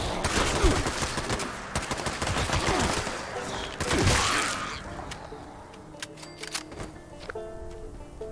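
A player's gun in Fallout 76 fires in rapid automatic bursts, loud and close, then breaks off into a few scattered shots and quieter game sounds.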